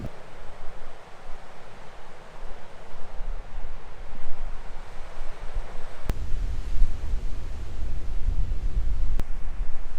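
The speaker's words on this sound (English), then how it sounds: "Very windy" Strong wind gusts roar steadily outdoors as the weather turns, a dense rushing noise with microphone buffeting that thickens in the second half and carries two sharp clicks.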